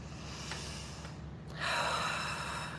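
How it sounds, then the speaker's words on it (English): One deep breath drawn in, an audible airy inhale swelling near the end of a short quiet moment, close and alone without speech. "Take a deep breath."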